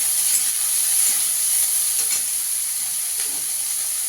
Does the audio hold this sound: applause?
no